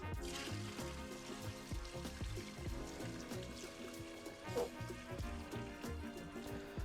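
Milky, starchy rinse water is poured off sushi rice, a steady liquid stream and trickle with faint splashes, quiet and close, with no one speaking.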